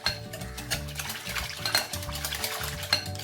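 Oil being mixed into red velvet cake batter in a bowl, heard as steady stirring and scraping with light clinks of utensil against the bowl, close and continuous with no talking.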